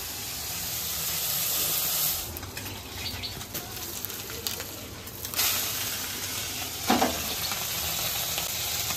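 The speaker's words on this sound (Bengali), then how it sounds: "মাছ ভাজাটা বসাই দিচ্ছি, ছোট মাছ, মরলা মাছটা" Small mourala fish crackle and hiss steadily in hot oil, a loud continuous sizzle with occasional stirring clicks and spatters.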